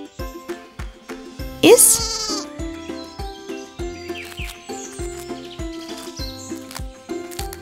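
A toy sheep from a Baby Born doll playset gives one bright, electronic bleat partway through, set against a bouncy, rhythmic tune that keeps going around it.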